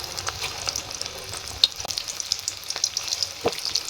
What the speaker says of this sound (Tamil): நம்ம வந்து ஒவ்வொரு பீஸாக போட்டு பொரிச்சு எடுத்துடலாம்.